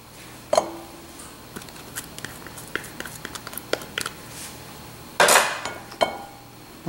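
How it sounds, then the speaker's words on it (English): Apples being tipped into a stand mixer bowl while making a fall dessert: scattered light knocks and clinks against the bowl, with a louder clattering tumble near the end. "I'm going to add the apples."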